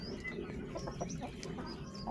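Chickens in a backyard coop cluck and chatter continuously at close range, with a rooster among them, amid steady barnyard noise during morning feeding.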